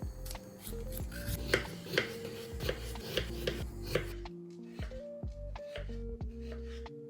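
Repeated knife strokes scrape and tap against potatoes being peeled in a quiet kitchen, with steady sustained tones running underneath.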